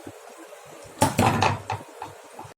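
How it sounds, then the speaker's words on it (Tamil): An insulated hot case holding freshly cooked chicken biryani is shut by hand: a cluster of sharp knocks and clatter as the lid is handled and pressed down, followed by a few lighter taps, close by in a quiet kitchen. "அப்படியே மூடி வச்சிடலாம்."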